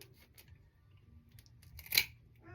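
A single crisp snip of scissors cutting through a fibrous loofah sponge, close and brief, amid quiet rustling handling noise.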